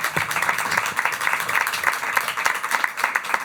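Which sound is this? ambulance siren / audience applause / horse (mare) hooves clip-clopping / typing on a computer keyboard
audience applause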